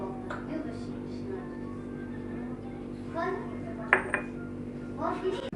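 A metal cooking pot clinks and clatters against a surface a few times, close by, with a low steady hum and faint voices behind.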